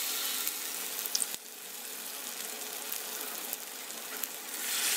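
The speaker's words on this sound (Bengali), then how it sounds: "এবার আমি ব্যাটারের মধ্যে একটি একটু ফুলকপি নিয়ে আমি গরম তেলে ছেড়ে দেব" Cauliflower florets coated in batter deep-fry in hot oil for crispy pakora, giving a steady close sizzle and crackle with a brief soft knock partway through and the bubbling swelling louder at the end.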